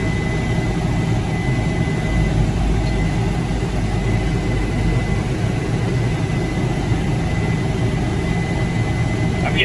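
A farm tractor powered by a Detroit Series 60 diesel engine pulls hard under heavy load, producing a loud, constant low roar with a droning high whine, unbroken and close.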